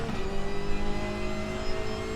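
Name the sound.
race car engine revving and downshifting in RaceRoom video game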